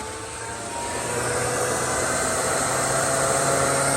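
Steady broadband rushing hiss of an LP Engineering helmet pumper fan blowing air inside a RZR side-by-side, rising in level during the first second and then holding constant and fairly loud with a faint low hum beneath.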